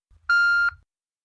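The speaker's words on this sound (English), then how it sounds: "So, here's the beep." A single clean electronic answering-machine beep, bright and steady, lasting under half a second, then silence.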